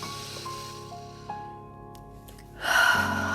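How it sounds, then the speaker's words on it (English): During a ballet-style full body stretching routine, a deep inhale rises near the end as a brief, breathy rush over soft sustained piano music. "One last time, breathing in."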